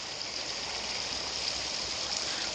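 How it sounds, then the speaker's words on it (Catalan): Flowing water of the Vaca river near Simat, a steady, even rushing hiss with no breaks, soft and moderately distant, with no voices. "Veieu el riu Baca."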